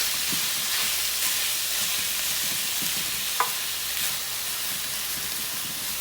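Ground beef sizzles steadily in a hot pan with fresh thyme as the back of a spoon breaks it apart, soft scraping strokes and one sharp clink sitting over a constant close frying hiss.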